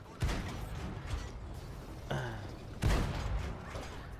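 Tank cannons fire in a Halloween event of World of Tanks on PS4, a few heavy booming shots with rumbling tails set against continuous battle noise, while someone speaks German over the action.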